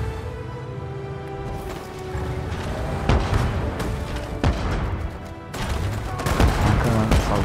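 Naval cannons fire in the strategy game Civilization 7 as ships bombard a coastal city, with repeated booming shots and crackling volleys over a dense, busy battle soundscape.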